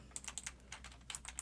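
Typing on a computer keyboard on a macOS machine, quick bursts of crisp key clicks in an uneven rhythm with short pauses, faint and close with no talk.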